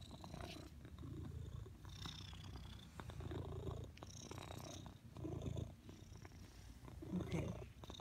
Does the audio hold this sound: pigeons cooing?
no